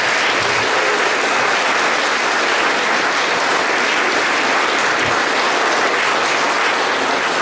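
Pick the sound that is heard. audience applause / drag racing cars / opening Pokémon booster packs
audience applause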